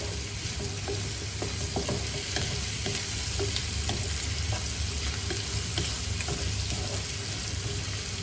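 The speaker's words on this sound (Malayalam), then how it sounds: "എന്നിട്ട് നല്ലതായിട്ട് ഇളക്കി കൊടുക്കണം" Chicken masala fries and sizzles in a pan while being stirred, a steady close crackling hiss with scattered scraping taps from the spoon, and no one talking.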